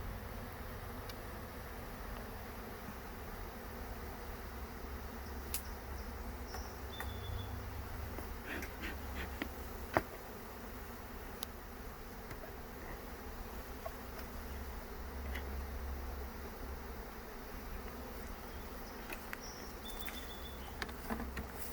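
Honey bees from a hive being checked with an alcohol wash for varroa mites buzz steadily at close range, a continuous drone through the whole stretch with a few individual bees passing nearer the microphone.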